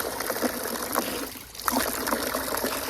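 Water runs steadily from a tap or stream with a continuous close splashing hiss, briefly dipping before resuming.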